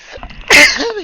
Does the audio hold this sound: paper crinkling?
no